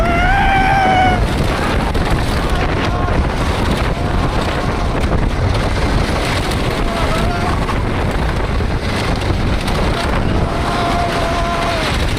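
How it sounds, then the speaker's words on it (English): A water rapids ride at SeaWorld San Antonio, with loud, constant rushing water and wind buffeting the microphone throughout, plus people shouting and talking over the roar. "we hitting the rapids now, y'all"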